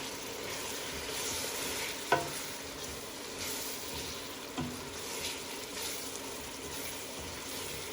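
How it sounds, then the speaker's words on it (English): A pot of fio fio pigeon peas with a Knorr stock cube fries quietly with a soft sizzle while a spoon stirs, giving two sharp utensil clinks against the pan amid gentle scraping. "So I will give it a nice fry again."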